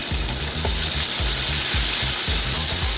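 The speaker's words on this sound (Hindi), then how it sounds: "इनको सौते करते हैं। ये देखिए, प्याज ने अपना कलर चेंज कर दिया।" Chopped onions sauté in hot oil in a pan for mutton yakhni biryani, giving a steady close sizzle with repeated soft stirring scrapes in a loose rhythm and no talking.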